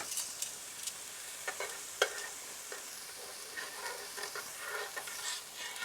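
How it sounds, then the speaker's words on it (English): Peppers and onions stirred in a pan, searing in leftover meat juices and fat, give a steady soft sizzle with scattered scraping clicks of the spoon; no one talks. "And we are just going to stir it."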